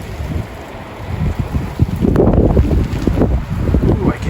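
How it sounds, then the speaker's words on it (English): Strong wind gusts buffet the microphone outdoors during a winter storm with sleet and hail, a loud, roaring, rumbling rush that builds and surges unevenly throughout. "Those are wind gusts right there."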